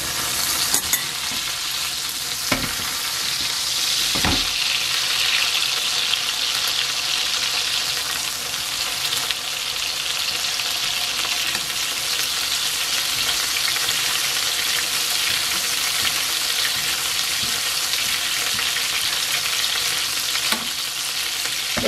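A tomahawk steak fries in butter in a frying pan over raised heat, giving a loud, continuous sizzle with occasional clicks and scrapes, without speech.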